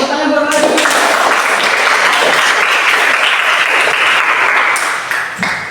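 Loud, dense clapping from a group at a religious study session, sustained for several seconds with no voices, then tapering off abruptly at the end.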